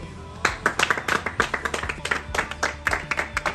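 A group claps together in rhythm on a film set, sharp unison claps repeating at a quick steady beat, close and loud, with some voices underneath.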